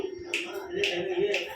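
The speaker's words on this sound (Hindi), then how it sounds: "चुटकी बजा गई," Three crisp finger snaps at an even rhythm, close and clear, over a faint steady hum.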